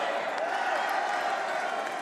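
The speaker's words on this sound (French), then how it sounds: "Applaudissez-les." Large crowd at an outdoor political rally at the Trocadéro in Paris applauding steadily, a dense continuous wash of clapping and cheering held at an even level throughout, with some voices mixed in.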